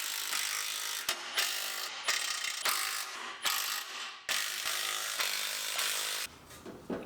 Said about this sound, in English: Tighten up all of our clamps